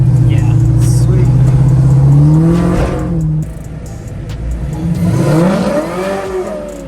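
Chevrolet Camaro engine roars loud and close as the car drives up the road, a long rising rev that drops off, then climbs again on a second pull.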